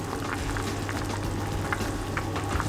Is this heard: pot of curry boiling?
yes